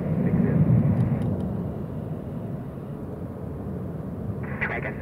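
United Airlines Boeing 777 jet roaring on takeoff at Hong Kong Airport, a steady broadband engine rumble that is loudest at first and slowly eases, with brief higher tones near the end.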